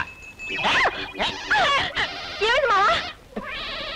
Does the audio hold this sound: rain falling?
no